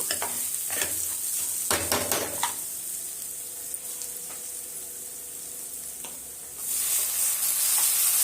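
Ingredients frying in oil in a pan give a continuous close sizzle, with a cluster of clattering stirs and utensil scrapes early on and the hiss surging louder near the end.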